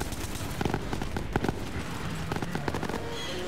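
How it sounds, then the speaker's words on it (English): Grenade explosions in the video game Borderlands 3, several quick bursts and crackling blasts scattered over a busy game soundtrack, moderately loud in a fast-paced co-op shootout. "Those were the grenades that he was throwing."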